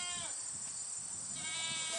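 A goat bleats in a long wavering cry held over steady background noise, moderately close and heard without speech.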